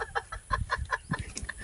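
A chicken clucks in a quick, rhythmic run of short calls, close and clear, with no talk over it.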